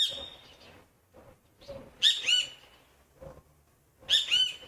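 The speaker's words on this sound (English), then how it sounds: "We have a few beautiful birds in the trees, if you can hear that." Birds singing in the trees, with bright chirping phrases repeated in clear bursts among softer, lower calls, fairly close and with no voices.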